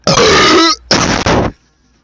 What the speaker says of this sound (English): Do you think I will be able to achieve another legendary burp today?